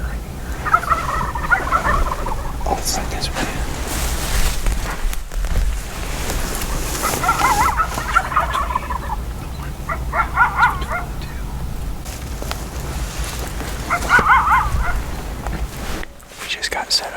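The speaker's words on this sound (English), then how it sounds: "The turkeys are probably 300 yards over there in the roost." Wild turkeys gobble from a roost about 300 yards off on Nebraska public land, heard as distant repeated bursts. Several gobbles come across the stretch over a windy background, and someone speaks quietly nearby.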